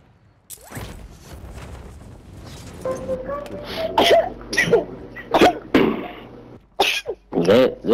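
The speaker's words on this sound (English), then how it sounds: "Is that you sneezing?" Sneezes and coughing bursts during a multiplayer shooter game session, several sharp explosive bursts in quick succession, loud and close, with voices and game sounds around them.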